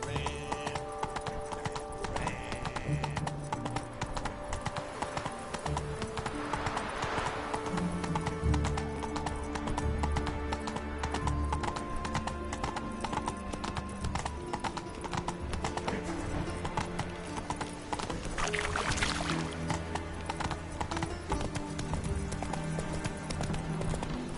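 Roach the horse gallops in The Witcher 3, a steady rhythmic clip-clop of hooves with snorts and a whinny over game music and ambience.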